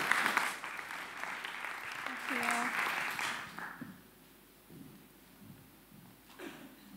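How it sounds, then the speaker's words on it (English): An audience at a data visualization event gives a welcome round of applause, loud for about three seconds before dying away into quiet room noise and brief movement. "So a warm welcome applause for Suze."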